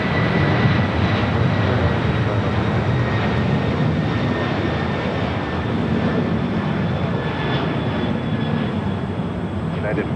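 Heavy Boeing 747 departing LAX on runway 25 left, a steady, loud broadband engine roar that holds evenly throughout with no break.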